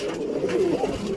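Pigeons at a home loft during morning flight training give a brief, soft, low cooing murmur that stays steady and fairly close throughout.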